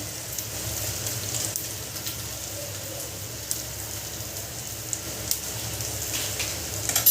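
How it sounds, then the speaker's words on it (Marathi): Vegetables seasoned with salt and chaat masala sauté in a pan, a steady dense sizzle like light rain running throughout with occasional faint scrapes of stirring. "यांना छान परतून घ्यायचं"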